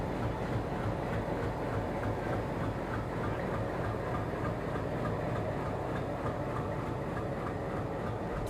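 A steady, loud rumble of a shunting locomotive idling close by at a station, with a constant low drone and faint rhythmic clanking underneath.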